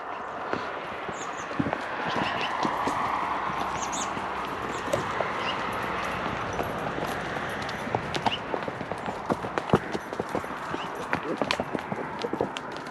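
Several freshly gelded horses trot together along a dirt path, their hooves making a steady, overlapping clip-clop with scattered sharper footfalls, close by and fairly loud over a constant outdoor background.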